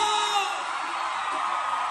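Concert crowd at a show shouting and whooping together, a dense, steady roar of many voices that stays loud and unbroken from start to finish.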